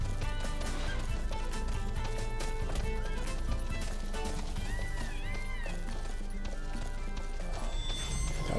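Chocobo ridden at speed in Final Fantasy XV, its feet beating a quick, steady clip-clop gait up close over game music, with a brief squawk partway through.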